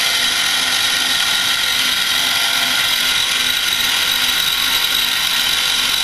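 Drilling machine on a track segment moving from its home position, a loud continuous mechanical whir with a faint regular ratcheting tick running through it from start to finish.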